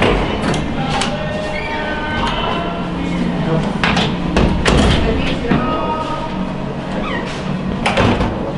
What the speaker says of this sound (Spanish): Nos han dicho que el motor está actualizado, evidentemente, pero que lo que es la cabina sí que es antigua.